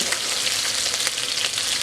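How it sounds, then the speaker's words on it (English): Red Thai curry paste fries in a pan over medium-low heat, giving a steady, loud, close sizzle that crackles continuously throughout with no talking. "I just want to fry the paste around a bit,"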